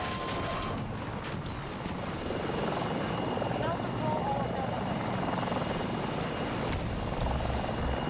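An attack helicopter in Battlefield 2042 thunders with a constant close rotor roar throughout, and someone talks over the drone.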